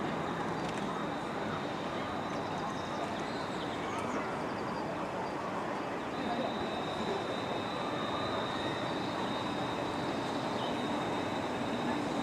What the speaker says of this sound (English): So we're just leaving Rugeley Town Station now